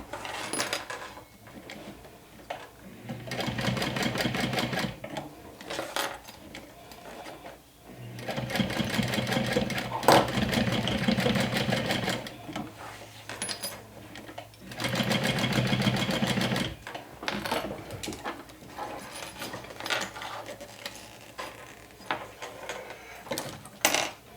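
A sewing machine top-stitches through several layers of fabric in three long bursts of steady mechanical whirring, separated by brief pauses and soft handling clatter, with no talking.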